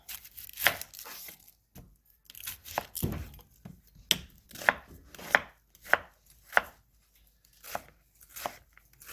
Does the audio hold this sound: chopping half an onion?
yes